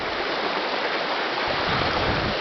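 A river flowing near a waterfall makes a loud, steady rush of broadband water noise, close and continuous, with the low roar swelling slightly toward the end.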